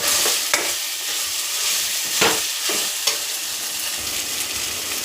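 Tomato and ginger-garlic masala sautéing in a pan, a continuous close sizzle broken by several sharp spatula scrapes and stirs spread across the stretch, with no one speaking.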